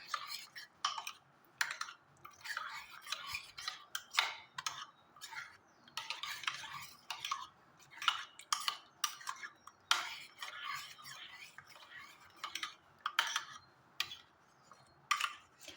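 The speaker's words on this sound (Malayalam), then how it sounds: "കട്ട കെട്ടാതെ എല്ലാം നല്ലവണ്ണം മിക്സ് ചെയ്യുക." Cake batter with baking powder being mixed by hand, a steady run of quick clicking and tapping strokes of a utensil against the bowl, close and fairly quiet, with no voices.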